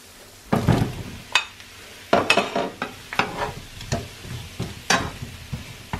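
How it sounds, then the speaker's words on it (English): Sweet potatoes tipped into a pan of cooked onions land with a series of thuds and scrapes, followed by quieter stirring strokes over a light sizzle, close and uneven in rhythm. "Now the onions are ready to receive the sweet potatoes."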